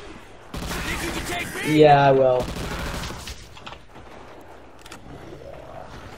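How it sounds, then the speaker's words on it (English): Rapid bursts of AN94 rifle fire rattle out in Call of Duty World at War Zombies, loudest near the middle and fading to scattered shots, with a person speaking briefly over the gunfire. "Oh, listen to that gunshot! Sounds so good."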